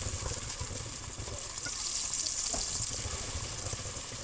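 Onions sizzling in hot ghee in a pan for maash dal, a steady, fairly quiet hiss like running water that holds evenly throughout with no voices.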